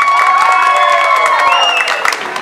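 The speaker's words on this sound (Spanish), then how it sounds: "Un aplauso para la número tres." A crowd at a rural farmers' day celebration in Barro Blanco, Yolombó, claps and cheers loudly for contestant number three, with high shouts and whoops riding over dense, close applause throughout.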